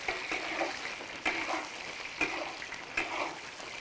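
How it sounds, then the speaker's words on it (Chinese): Pork tails stir-fry in oil in a wok, giving a soft, steady sizzle broken by regular scraping strokes of stirring, fairly quiet overall. "锅头来点油，把尾巴倒进来先炒一下。"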